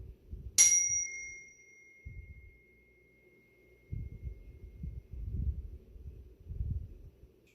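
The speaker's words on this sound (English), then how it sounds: "So are you surprised at how long that chime lasts?" A single chime struck during a children's yoga class, its clear bright tone ringing out and slowly fading over several seconds above faint low rumbling in the room.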